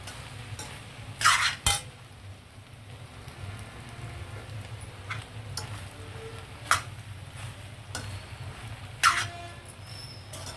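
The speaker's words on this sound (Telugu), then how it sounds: "మొత్తం కూరగాయలు చికెను ఈ మెకరోనియాలో కలవాలన్నమాట" Macaroni with chicken and mixed vegetables stirred in a pan: a low background hum and faint sizzle broken by a few sharp clinks and scrapes of a spoon against metal, heard close and alone.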